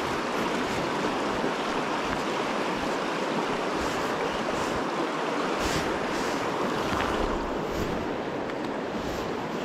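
Water of the River Findhorn rushes past in a steady, loud broadband roar during salmon fly fishing in July, the flow continuous throughout with no talk over it.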